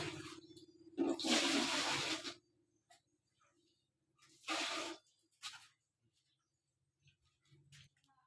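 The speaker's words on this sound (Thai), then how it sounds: "ต้องใส่น้ำก่อน" Water is poured into a pot for steaming rice in two loud splashing bursts, each lasting about a second, separated by quiet stretches with small knocks and clinks.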